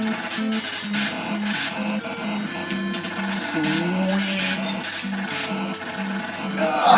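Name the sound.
tapping game controller buttons for rapid fire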